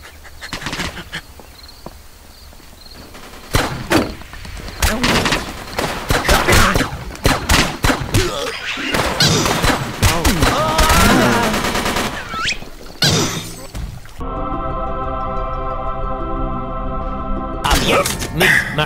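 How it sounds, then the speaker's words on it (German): Rapid bursts of machine gun fire and other gunshots from the video game World War Toons, loud and dense, mixed with game sound effects and a stretch of steady tonal music. "Maschinengewehr."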